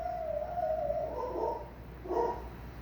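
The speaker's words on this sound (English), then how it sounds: "I'm gonna go see what he's barking at" A dog barks somewhere in a home, two muffled, fairly distant barks against a steady background hum with no talking.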